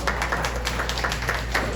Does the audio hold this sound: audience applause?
yes